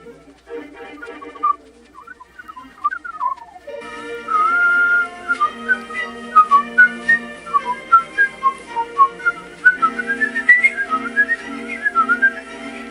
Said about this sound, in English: Sometimes you even have to whistle along.